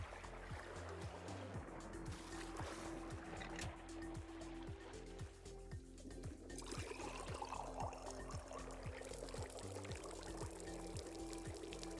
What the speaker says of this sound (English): Pour it all out.